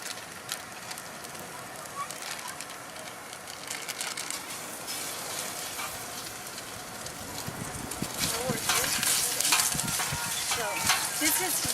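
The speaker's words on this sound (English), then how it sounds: "This is mild Italian sausage, and we're adding it to give another depth of flavor." Mild Italian sausage going into a paella pan, with a steady crackling sizzle that grows louder and busier near the end as the meat hits the hot oil, alongside stirring and scraping.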